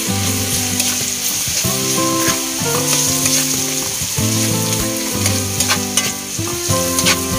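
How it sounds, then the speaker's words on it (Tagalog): Garlic fries in a cup of oil for a chili garlic sauce, giving a loud continuous sizzle with frequent stirring clatter close by, set against a bed of steady tonal background music and no voices. "Ang ating mantika, meron tayong 1 cup of mantika and 1 cup of bawang. Tapos mix ulit."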